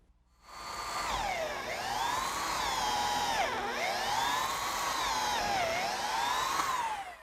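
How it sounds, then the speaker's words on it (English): A power drill fitted with a 3/8 inch bit bores a bolt hole through picnic table lumber, its motor whining loudly and steadily with rising and falling pitch as it bites into the wood. "now I can switch to a 3/8 inch diameter bit and drill a hole all the way through for the bolt"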